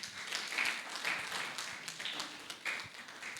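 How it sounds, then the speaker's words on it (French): Applause and acclaim from the audience at a charity gala in Abidjan, greeting an author being introduced. Faint and distant, a steady patter of many hands with scattered louder claps. "ça s'applaudit"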